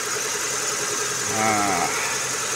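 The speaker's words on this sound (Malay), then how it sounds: "Yang penting enjin start hidup." A Proton Saga 1.3 engine idles steadily after being started, a constant mid-pitched hum with a brief tonal swell in the middle, heard alone without talk.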